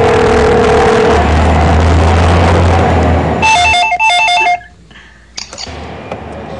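A telephone rings back after an international call is dialed, as a warbling electronic tone in short bursts that follows a steady engine-like hum, then cuts out into near silence.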